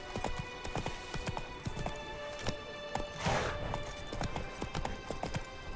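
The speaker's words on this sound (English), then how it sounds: "Whoa there, Roach." Hooves of a galloping horse in The Witcher 3 video game pound in a quick, steady clip-clop rhythm, close and fairly loud, with a brief rushing burst midway and no speech.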